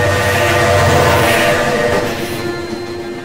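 A train passes close by with a loud, sustained rumble of wheels and railcars and tonal horn-like hum, gradually fading slightly toward the end, with no talking.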